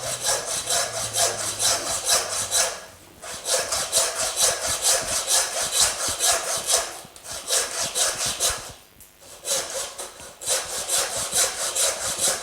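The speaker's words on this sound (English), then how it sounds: "So I'm just sawing halfway" A hand saw rasps through a lamb loin's meat and bone in steady back-and-forth strokes, with two brief pauses along the way.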